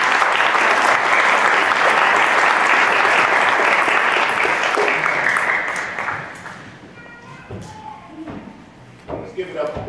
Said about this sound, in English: Let's hear it for Chairman Leroy Jones Jr